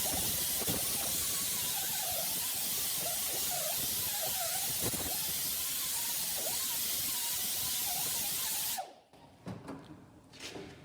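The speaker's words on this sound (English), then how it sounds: "rotary air tool with a paint stripper or rust stripping brush on it" A rotary air tool fitted with a rust stripping brush scrubs a brake rotor, giving a loud continuous whirring hiss with grinding scrapes that stops abruptly near the end, leaving a few quiet clanks.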